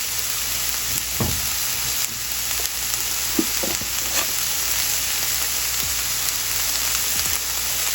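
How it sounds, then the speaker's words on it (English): Chopped onion and pepper sweating with a little salt in a hot pan for low-carb tacos: a steady, dense sizzle with a few soft stirring scrapes, close and loud, with no voices. "Drop the veggies in there. What we'll do is sweat out that beautiful flavor with a little bit of salt."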